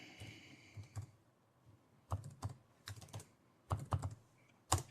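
Typing on a computer keyboard: irregular clusters of close, crisp key clicks in short runs with brief pauses between them, quiet and with no talking.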